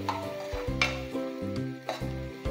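Onion and tomato with salt cook in a pan, a gentle sizzle overlaid by a few distinct stirring scrapes and clinks against the metal, with a steady hum underneath and no talking.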